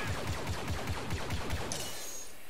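Rapid blaster fire from stormtroopers in the Star Wars Battlefront video game: about a dozen evenly spaced shots in a fast rhythm, loud and close, stopping abruptly with a brief hiss and fading tail afterward.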